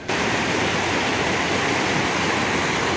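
A clear, fairly swift river flows at a riverside tubing park in Pamijahan in the early morning, a loud, steady broadband rush of water that continues unbroken throughout with no voices.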